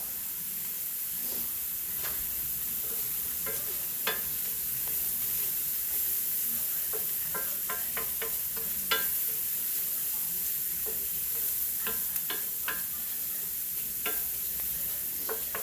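Pork browning in a pan with parsley for a sage sugo, a constant close sizzle and hiss dotted with frequent light clicks and scrapes of stirring, no talk.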